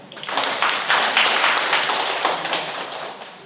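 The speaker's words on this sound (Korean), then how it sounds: "박수 한번 주세요" An audience at a lecture gives a short round of applause, uneven clapping that swells and fades over a few seconds, fairly close and moderately loud.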